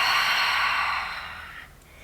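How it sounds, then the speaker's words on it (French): A long, breathy exhale during a yoga warrior flow, airy and fairly close, fading out over about a second and a half into quiet room tone, with no talking. "On prend une bonne respiration"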